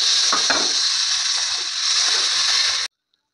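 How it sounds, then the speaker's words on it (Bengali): A strong, steady sizzle rises as spice-paste water is poured into a pan of fried vegetables for a fish curry with potatoes and greens, with splashy bursts near the start before it stops abruptly. "এবার ওই যে বাটা মশলার যে জলটা ওর মধ্যে দিয়ে দেবো।"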